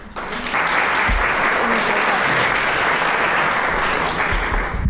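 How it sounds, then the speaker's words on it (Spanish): Sustained, loud applause from an audience welcoming a newly appointed Constitutional Court magistrate at a Women's Day commemoration in Colombia's judiciary, steady dense clapping filling the room throughout. "La recibimos con un fuerte aplauso."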